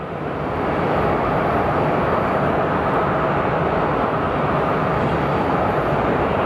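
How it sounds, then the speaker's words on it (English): A Southwest Airlines airliner arriving at Phoenix Sky Harbor Airport, heard as a loud, steady broadband jet roar that holds without a break for the whole stretch, with no voices over it. "we have Southwest 9003 coming in from Denver"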